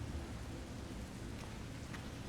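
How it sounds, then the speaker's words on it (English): Rain falls in the video game Resident Evil Revelations 2 as a faint, steady wash of patter with no talking. "Here comes the rain."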